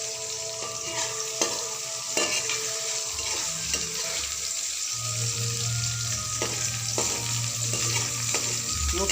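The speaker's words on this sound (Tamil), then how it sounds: "முட்டை பொரியல் நான் செய்கிறேன்." Egg poriyal frying in a pan, a steady close sizzle with scraping stirs and occasional spatula taps against the metal.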